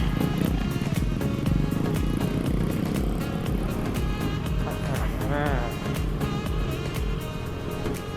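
A Benelli 302s motorcycle engine runs with throttle blips, a dense, steady roar close by, while a rider's voice talks and shouts over it.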